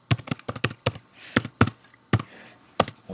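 Typing on a computer keyboard while writing HTML code, a close sequence of sharp key taps in uneven bursts with brief pauses between, crisp and alone without any talk.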